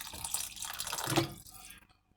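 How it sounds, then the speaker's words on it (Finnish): About 4 dl of water is poured into a pot while chili jam is cooked, a soft splashing pour lasting under two seconds that tapers off into quiet. "tässä on 4 desiä vettä tässä yhdessä, niin mä löräytän tänne vähän sen."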